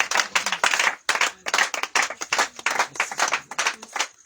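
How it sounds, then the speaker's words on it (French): A congregation at a prayer evening in Yamoussoukro claps and applauds in gentle acclamation, in steady rhythmic bursts of many hands, close and fairly loud, with no talking over it. "On acclame doucement Jésus"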